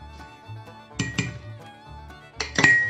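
Washed cumin seeds go into a pot for sago papad, heard as two brief clinks and rattles of metal against the pot over a quiet kitchen background.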